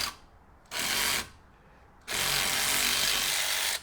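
A power tool on a Mercedes E320 loosens the 5mm retaining bolt of a brake rotor in two bursts of whirring, first short and then longer, with near silence between.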